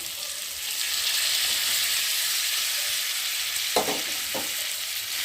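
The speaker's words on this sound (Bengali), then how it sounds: "দিয়ে মশলার সাথে আলুটা ভালো করে কষিয়ে নেবো" Potatoes sauté in a pan with ginger paste, cumin paste, green chili, turmeric and salt, giving a steady close sizzle throughout, with two short stirring scrapes near the end and no talking.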